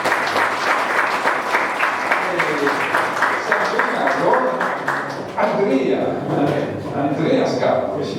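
An audience at a talk applauds a visiting professor, a dense sustained round of clapping close to the listener, with a voice speaking over the tail end.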